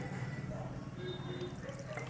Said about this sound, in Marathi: त्यामध्ये आपण थोडंसं पाणी ॲड करू